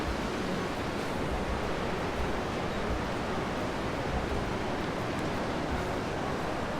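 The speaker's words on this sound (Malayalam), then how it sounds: "നദി ഇങ്ങനെ വരുന്നുണ്ട്." Dudh Koshi river, ice-cold glacial water rushing below a swaying suspension bridge on the Everest Base Camp trek; a steady, loud, broadband roar of flowing water continues unbroken throughout, with no voices.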